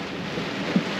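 A brief stretch of steady rainfall on a boat, a soft continuous hiss with a low rumble beneath and one small thump near the end.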